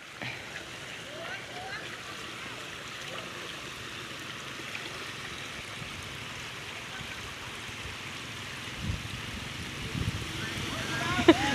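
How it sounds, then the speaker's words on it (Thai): Lake water at Ban Takang lake laps and trickles gently along the shore, a steady, soft wash close by with a few small splashes near the end. "ก็เป็นทะเลสาบบ้านตะกางนะครับ"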